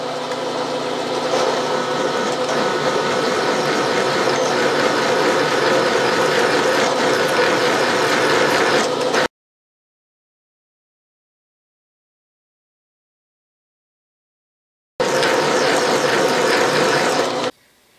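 Metal lathe boring a 47/64 inch hole at a slow 135 RPM, a steady loud mechanical grinding and whirring that runs continuously, cuts out for several seconds, then resumes briefly.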